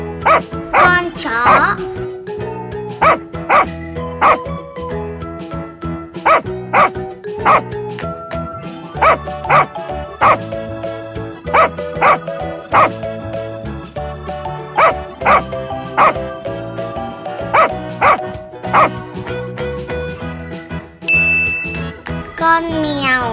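A dog barks in a series of loud, evenly spaced woofs and yips, set against upbeat children's music with ringing chimes and jingles.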